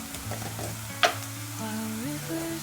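Ragi vermicelli frying in a pan, a soft steady sizzle close by with one sharp utensil tap partway through, no voices.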